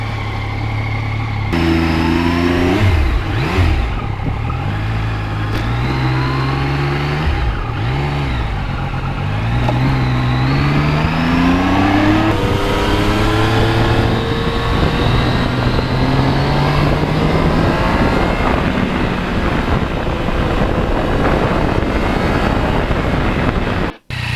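A Yamaha MT-09 motorcycle engine drones loudly and continuously on a test ride, revving and shifting through gears with rising and falling pitch sweeps, close and unbroken to the end.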